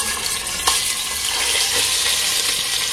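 Mutton pieces dropped into hot oil without onions, a loud continuous close sizzle and crackle with a brief clatter near the start, alone without talk.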